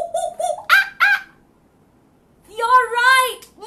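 A voice imitating a monkey during a nursery-rhyme singalong, giving short excited hooting calls followed by a longer rising-and-falling whoop, close and clear with a brief pause between.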